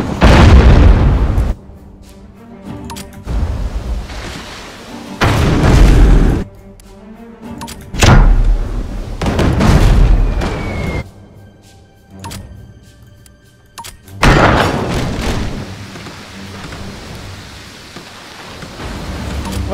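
Ship cannons firing in Abandon Ship naval combat, a series of heavy booming blasts and explosions arriving in separate bursts with rumbling decay and quieter gaps between volleys.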